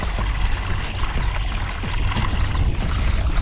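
Water flows slowly into a hillside pond at Osham hill as a steady, noisy rush that stays continuous and fairly loud throughout, with no voices.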